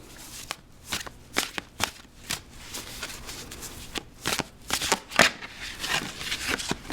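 A deck of tarot cards shuffled by hand close up, with a series of quick riffling and slapping bursts in an uneven rhythm and brief pauses between them, fairly crisp and with no one speaking.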